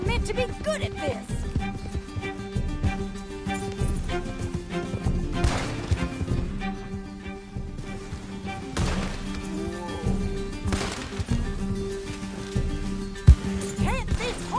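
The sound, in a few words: horse galloping in video game Red Dead Redemption 2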